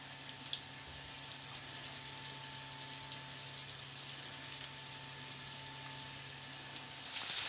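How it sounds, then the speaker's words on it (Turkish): Steady, faint crackling sizzle of potatoes frying in hot oil, continuous and even throughout, with a slight rise in hiss near the end. "Bu tarafta da patatesini kızartıyorum."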